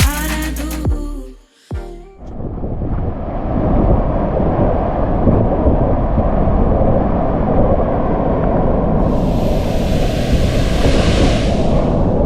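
Harvalem waterfall in Goa during the monsoon, a loud continuous roar of rushing, crashing water that fills the scene steadily after a brief burst of other noise at the start.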